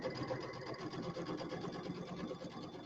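A sewing machine runs fast and steadily while stitching a settee pillow, a continuous close whirring with even rhythmic pulses throughout.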